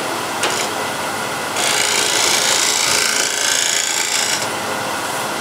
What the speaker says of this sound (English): let's go straight to the extreme scraping mode